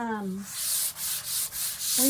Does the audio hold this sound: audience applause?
no